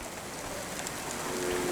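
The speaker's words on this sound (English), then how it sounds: "Don't let all the rain get you down." Rain falls continuously in the Cloudpunk video game, a steady, moderate hiss of drops on surfaces with a faint tonal hum underneath and no talking.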